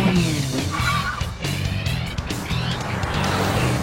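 Toyota Hilux 2.8 D-4D diesel with a small mild-hybrid electric motor, engine running under load with a steady low drone and road noise throughout, fairly loud and close.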